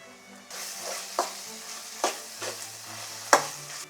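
Ginger garlic paste hits a hot pan with a burst of sizzling, followed by several sharp spoon scrapes and clinks against the metal.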